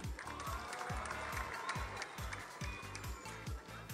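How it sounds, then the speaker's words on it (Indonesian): An indoor audience at a literacy festival gives steady, sustained applause for Kabupaten TTS, with many hands clapping at once in a dense, continuous patter that lasts throughout. "Sekali lagi mohon tepuk tangan untuk Kabupaten TTS"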